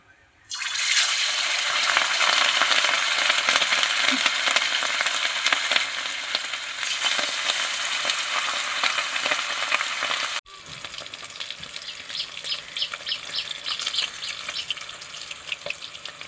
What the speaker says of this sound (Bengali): তেল গরম হয়ে গিয়েছে এবার আমি মাছগুলো তেলে ছেড়ে দেব ভাজার জন্য